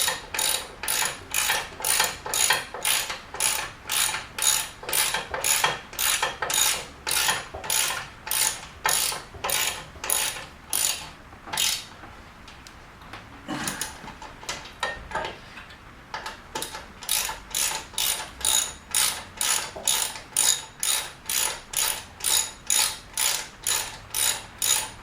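A hand ratchet clicks in long repeated bursts as it tightens the bolts of an engine guard on a Suzuki V-Strom DL1000 motorcycle, crisp close ticking strokes in steady rhythm with a short pause midway, no voices.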